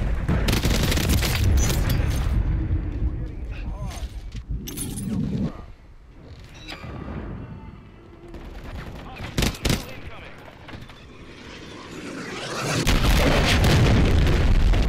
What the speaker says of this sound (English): Of course I catch the fucking cruise missile.